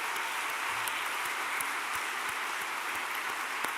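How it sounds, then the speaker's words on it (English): Audience applause welcoming a new university president, dense steady clapping from a large crowd, fairly distant and even throughout. "Let's give her a round of applause."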